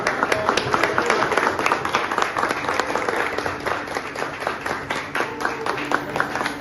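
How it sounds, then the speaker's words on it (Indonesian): An audience claps together after a closing address at a book discussion event about Dilan and Milea, sharp dense hand claps sustained throughout, fairly near and loud. "Tepuk tangan untuk kita semua."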